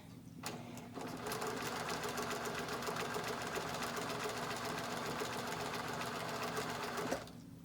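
A domestic sewing machine stitches quilt pieces together in one continuous close-up run of steady, rapid needle rhythm lasting about six seconds, starting and stopping cleanly with faint handling clicks around it.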